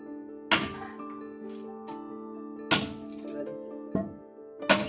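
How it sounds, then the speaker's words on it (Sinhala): A bamboo cannon fires for New Year in a village, sending out four sharp, booming cracks at irregular intervals over a steady humming background, each blast loud and echoing briefly. "උණ වෙඩි අවුරුද්දට"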